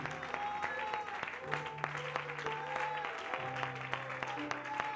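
A worship congregation applauds in praise, a faint, steady patter of many hands clapping together, with a sustained musical tone and a voice carrying through underneath.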